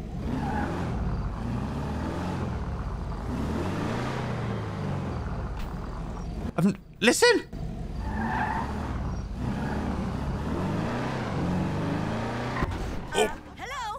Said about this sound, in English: You hear that engine from in here?